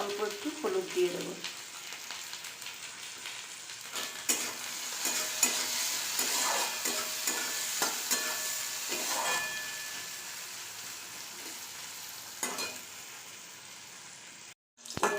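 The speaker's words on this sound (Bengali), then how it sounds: "তেল গরম হয়ে গেছে, আমি প্রথমে উচ্ছেগুলো ভেজে নেব।" Bitter gourd pieces with a little turmeric frying in hot oil for a Bengali vegetable dish, a steady sizzle with occasional stirring scrapes and clatter of a utensil, close and continuous.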